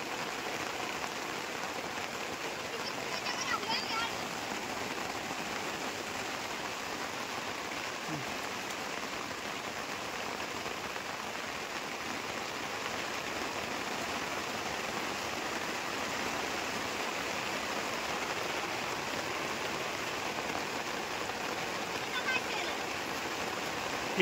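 Steady rain falls on surfaces, a continuous even hiss of droplets at moderate level throughout, with no clear voices over it.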